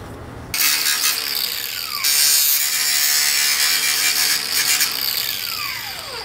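A power tool cuts a plastic truck grille to fit LED lights, starting abruptly with a loud, high, steady whine and rasp, then running nearly continuously with slight drops in pitch as it bites into the plastic.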